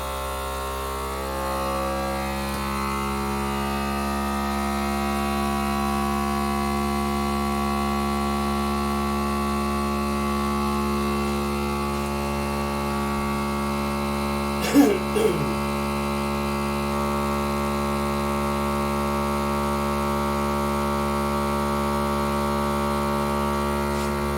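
A vacuum sealer's continuous electric motor hum drones steadily throughout, loud and close, with a brief clattering disturbance partway through.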